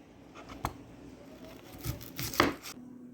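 A knife dicing medium and small onions finely on a board, with a few sharp, separate chops spaced irregularly and soft scraping between them, quiet and close with no talking.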